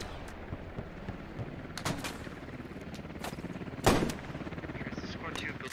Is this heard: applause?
no